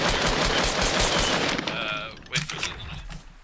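Rapid automatic gunfire in a Fortnite match rattles loudly and continuously for most of the clip, then gives way to a few scattered bursts and thumps near the end.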